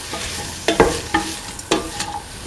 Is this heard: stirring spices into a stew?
yes